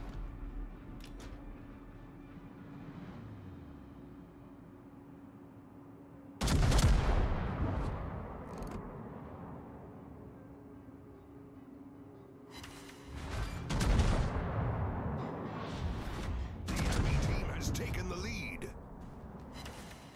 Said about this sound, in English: Firing our guns along the way.